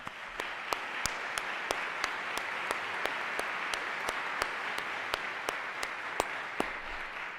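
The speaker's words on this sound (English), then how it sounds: "Kate, would you please stand so we give you a round of applause?" An audience at a university presidential announcement gives a round of applause, a faint, steady patter of clapping heard from a distance, with a few sharper, evenly spaced claps standing out.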